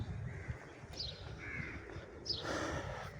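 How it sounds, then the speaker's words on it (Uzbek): Several crows caw at Sharm El Sheikh in Egypt, three or four short harsh calls at moderate distance over quiet outdoor ambience, with no talking. "Qarg'alar ko'p ekan."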